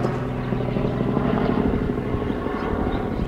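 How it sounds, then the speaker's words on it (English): A helicopter drones steadily overhead as a broad, continuous rotor and engine rumble at moderate loudness, holding fairly even throughout with no talk. "Whoa, Jack, is that a helicopter?"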